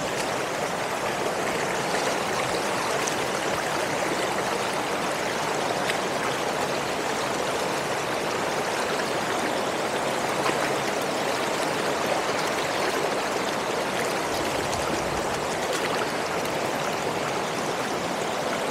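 A river streaming over green, slippery rocks, giving a steady, close, full rush of water that holds even throughout with no voices.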